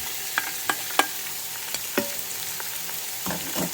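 Chopped leeks sizzle in hot oil inside a Ninja Foodi, a soft steady crackle broken by a few sharp clicks and scrapes of stirring, quiet and without talk.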